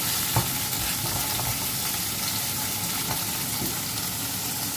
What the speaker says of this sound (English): We're gonna fry this one tofu.